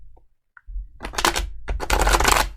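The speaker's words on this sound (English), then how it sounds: "One more shuffle. One more shuffle." Tarot cards shuffled by hand in two quick, close riffling bursts after a brief quiet opening, crisp and fairly loud.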